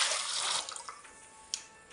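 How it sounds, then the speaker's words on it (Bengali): Water poured from a cup into a pot of lentils being cooked for chotpoti, a steady splashing rush that fades after about a second and a half, with a few small drips and clinks following. "আমি এখানে 2 কাপ জল দিয়ে দিচ্ছি।"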